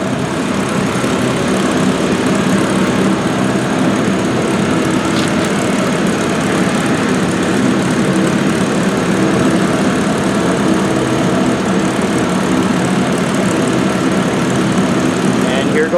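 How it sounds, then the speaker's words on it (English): A P-51 Mustang's engine firing up and settling into a steady, loud idling rumble at an outdoor vintage aircraft event, running continuously throughout with a faint crowd murmur underneath. "And the P-51 is firing up."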